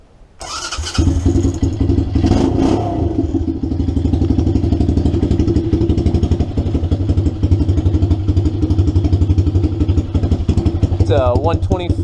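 A 420cc Predator engine on a 1982 EZ-GO three-wheeler cranks and catches within a second, then settles into a loud, close, steady chugging run that lasts until the end, with a faint rising whine near the finish.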